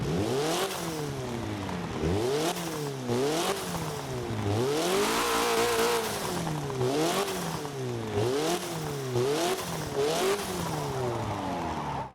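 Abarth 124 Spider with a 1.4 litre turbocharged engine in the racing game Forza 7, revving hard through repeated upshifts with rising and falling engine pitch, crackles on lift-off and brief tire squeal, loud and close with no talk.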